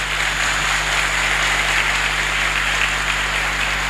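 A congregation in a Catholic church gives a loud, warm round of applause, with dense, even clapping sustained from start to finish over a low hum.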